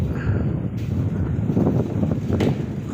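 Strong wind gusting ahead of an approaching rainstorm, a loud continuous roaring rush buffeting the microphone with rumbling low noise throughout and no pause.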